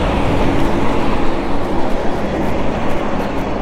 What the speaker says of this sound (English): we'll let this truck get by